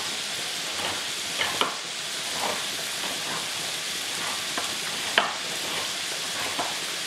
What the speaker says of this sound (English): I'm going to stir my sauteing peppers